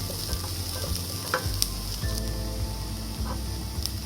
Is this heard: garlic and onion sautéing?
yes